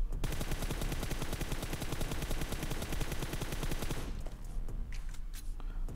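Gunfire in PUBG Mobile, a sustained full-auto burst with a six-times scope, rattles continuously at a fast even rate for about four seconds, then cuts off, leaving a few faint clicks.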